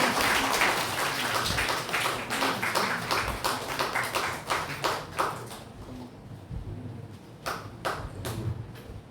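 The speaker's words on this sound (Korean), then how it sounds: "우리 박수로 한번 환영해 줄까요?" A church congregation at a Sunday worship service claps in welcome, producing a fairly loud, dense patter that breaks into distinct rhythmic claps and sharp individual hits as it carries on.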